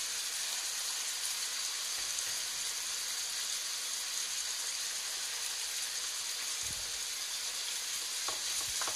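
Carrots added to a pan of chicken gizzard chop suey: a steady, even sizzle of frying fills the scene throughout, with a few faint stirring clunks near the end.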